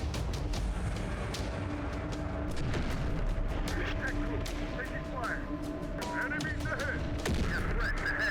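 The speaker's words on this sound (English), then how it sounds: "That's a Legion tank by that fire rate, or it's two of the big killers." A Legion tank fires rapidly in the shooter Terminator: Dark Fate Defiance, its bursts blended into steady battlefield noise with repeated bright blasts, while someone talks over the top.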